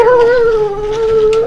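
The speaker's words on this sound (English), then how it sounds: "Good dog, Ty guy." A hunting dog howls at a bobcat up a tree, one long, loud, wavering howl held close by and almost unbroken, with no talk over it.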